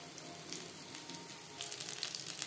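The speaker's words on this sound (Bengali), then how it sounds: "উল্টে পাল্টে দুপাশ ক্রিস্পি করে ভেজে নেব" Rui fish pieces fry in hot oil in a pan, giving a steady, close sizzle with crackling that grows a little louder toward the end.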